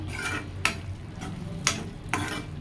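Raw prawns being stirred with chili powder in a pan, with soft wet sizzling and three sharp scraping clacks of a spoon against the vessel.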